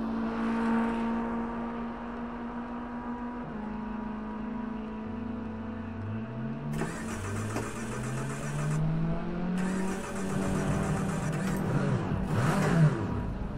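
A race car engine in Project CARS 2 at Snetterton hums steadily, then revs up and down in several rising and falling sweeps, with bursts of louder rushing noise and a final surge near the end.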